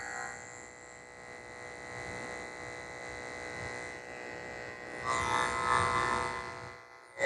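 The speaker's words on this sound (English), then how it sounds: "This little guy is getting poodle feet, which means I'm shaving his feet totally clean." Electric clippers fitted with a 30 blade shave a Yorkie's feet close, giving a steady low motor buzz with harmonic hum that grows louder and harsher near the end as the blade works against the hair.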